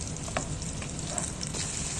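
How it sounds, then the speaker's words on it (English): Chopped yellow onion frying in hot oil in a pan, a steady dense sizzle with faint scrapes as it is stirred, heard close and alone. "Next, I'm going to put my onion, yellow onion. Just stir it a little bit."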